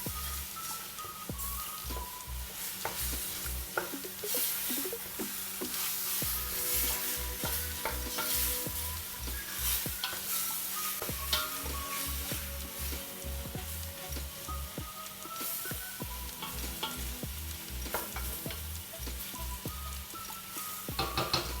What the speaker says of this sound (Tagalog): Haluin lang na maigi sa mga sangkap na ating nailagay para maluot ang lasa nito.